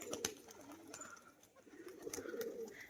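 Soft, low coos of tumbler pigeons repeat in a gentle rolling rhythm, fairly close, with light fluttering and background noise.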